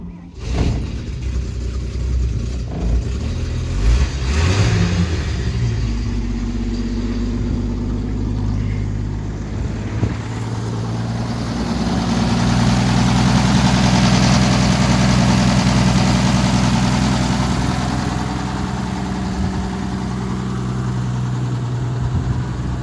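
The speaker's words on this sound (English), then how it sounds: "A little bit of choke, starts right up." Toyota 6000 FA115 truck engine started on a little choke, then settling into a steady, loud rumbling idle close by, with a brief rise in revs midway and no talking.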